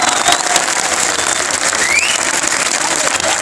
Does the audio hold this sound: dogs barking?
no